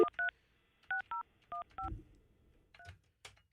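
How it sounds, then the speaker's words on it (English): Cell phone keypad dialing tones as a number is entered, a series of short, clean DTMF beeps in uneven groups, fairly quiet, with a brief low thump and faint rustle between presses. "calling Julian's cell phone."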